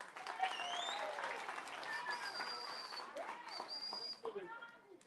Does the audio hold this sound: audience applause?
yes